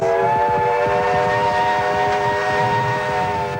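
A restored 80-year-old steam locomotive on the Dorrigo Plateau line sounds a long, loud, steady whistle that holds for the whole stretch, over a low rhythmic chuffing and rumble of the train close by.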